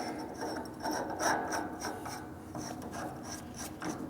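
Someone tightens an air line fitting by hand, with close rasping, ratcheting rubs of metal threads in short, repeated turns.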